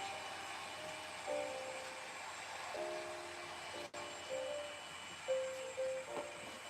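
A model train runs around the layout during a switching session, giving a faint, steady rolling hum with a few brief higher tones and a sharp click near the middle, no voices.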